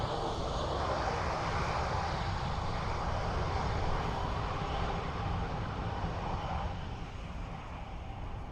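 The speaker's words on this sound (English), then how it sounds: "ATR next in from Aberdeen" ATR turboprop airliner arriving at Dublin Airport from Aberdeen, a continuous, dense engine roar heard close and loud, easing slightly toward the end, with no voices.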